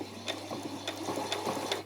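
Domestic sewing machine running a back stitch, a quiet rapid mechanical whirring with regular needle clicks, close and alone.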